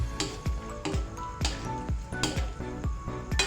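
Saba bananas are stirred in a cooking pot, giving a series of regular scraping clacks about every half second over a soft simmering sizzle.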